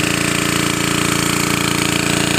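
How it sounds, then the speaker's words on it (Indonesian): A manual bore well rig drills about 18 meters deep in a drought-dry rice field, with a loud, steady, rapidly pulsing mechanical hammering and engine drone throughout. "kita masih membuat sumur bor di kedalaman sekitar"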